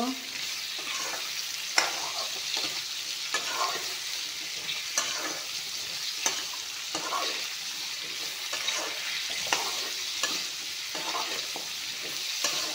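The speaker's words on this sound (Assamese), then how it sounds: "অমিতাখিনি ভালকৈ ভাজি ল'ম। অমিতাখিনি ভালকৈ ভাজি ল'লে আঞ্জাখন বহুত সোৱাদ লাগিব।" Papaya sizzles and crackles steadily in a hot pan, with occasional scraping stirs, close and continuous with no talking.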